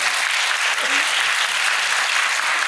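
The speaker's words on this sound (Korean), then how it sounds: "큰 박수로 맞으시기 바랍니다." Steady, dense applause from residents at an apartment redevelopment briefing, welcoming a trust company executive to the podium; even, full clapping throughout with no pause.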